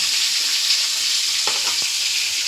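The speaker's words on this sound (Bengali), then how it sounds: "আর নিম পাতাটা ভাজবো, এই যে নিম পাতা আর বেগুন" Neem leaves and eggplant fry in hot oil with a steady, dense sizzle that fills the whole clip, and a few soft clinks of a utensil sound near the middle.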